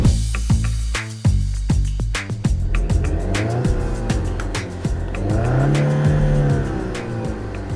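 Alfa Romeo Giulia launched hard from a brake-torqued 2,200 RPM start, its engine roaring up through the revs with tires fighting for grip and squealing, loud and close, with sharp gear-change breaks along the way.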